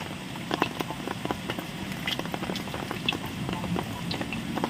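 Jengkol beans fry outdoors in hot oil, giving a steady, dense crackle and bubbling sizzle with scattered sharper pops throughout, close and fairly loud.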